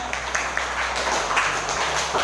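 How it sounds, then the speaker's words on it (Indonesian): A classroom group claps together in a steady, dense round of applause that carries on evenly throughout. "Tepuk tangan untuk kalian semuanya."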